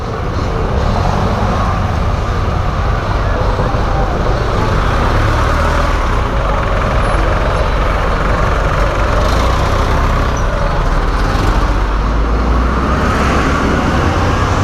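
Road traffic streams past outside a junk shop, a steady close rumble of cars and idling engines that never lets up, with no talking.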